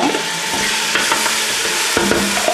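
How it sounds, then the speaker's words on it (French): Onions frying in hot olive oil in a pot produce a loud, dense, continuous sizzle, with spoon stirring and scraping knocking through it now and then, and nobody talking. "Une fois que l'huile est bien chaude, l'huile d'olive est bien chaude, vous mettez vos oignons"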